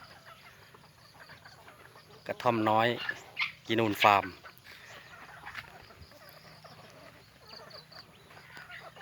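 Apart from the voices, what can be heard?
jungle fowl at a farm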